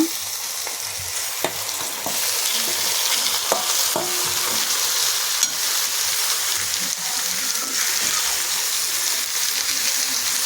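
Marinated chicken frying with onions in a pan for chicken roast, continuous sizzle close by with repeated scraping and clinking of a spatula as it's stirred, no speech.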